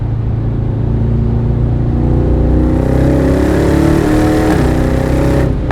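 A 2026 Aston Martin Vantage Roadster's engine revs hard and climbs steadily in pitch, then dips briefly at a gear shift around 4,500 to 5,000 rpm before pulling again, loud and close with steady road noise underneath.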